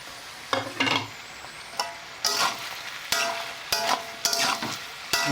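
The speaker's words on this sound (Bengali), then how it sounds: "ভাজা হোক, সবজিটা ভালো হবে।" Chopped onion and tomato sizzling in hot oil in a pan, with a series of scraping stirs in bursts over a constant crackling hiss, close and fairly loud.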